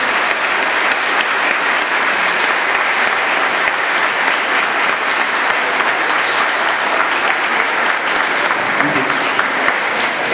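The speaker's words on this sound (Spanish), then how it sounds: "Quiero un aplauso para todas las personas que han colaborado y a los" At the closing ceremony of a senior citizens' week in Novelda, a large hall audience claps for the collaborators and workers, loud continuous applause filling the whole stretch without letting up.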